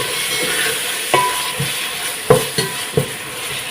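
Salt, red chilli powder and turmeric get stirred in a hot pan, a soft sizzle under a few sharp spoon scrapes and knocks against the metal, close by and with no voices.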